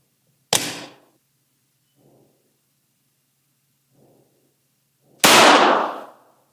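A Taurus G3 Tactical pistol discharges twice with no trigger pulled, two sharp loud bangs about five seconds apart with faint clicks between them, the second report longer and ringing out.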